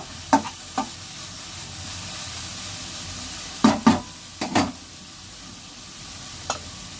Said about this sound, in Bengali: এদিকে চিচিঙ্গা ভাজাটা নেড়ে দেব।